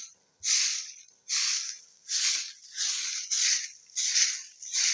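A broom sweeps a yard in six or seven rhythmic strokes, each a close, crisp bristly swish separated by short quiet gaps.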